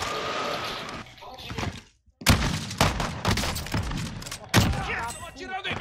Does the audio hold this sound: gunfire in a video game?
yes